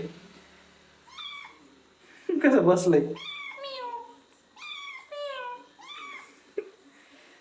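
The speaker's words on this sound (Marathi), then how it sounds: "हा पण परत एक मांजर आणली, बारीक पिल्लू आहे." A tiny kitten in a village home gives a string of thin, high meows, close and clear, with a burst of louder household noise and a person speaking between the cries.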